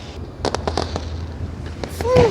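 Fireworks go off in a burst of sharp cracks and bangs, with crowd noise and voices in the background.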